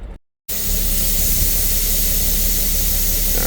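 Steady hiss of compressed air escaping from a leak in a diesel motorhome's air system, loud and continuous after a brief silent gap, with a low engine-like rumble underneath.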